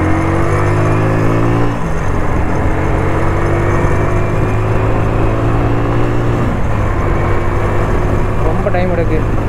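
Motorbike engine in final gear at full speed, a steady loud drone with tones that climb and then drop sharply around two seconds and again near six and a half, wind rush throughout, someone talking over it.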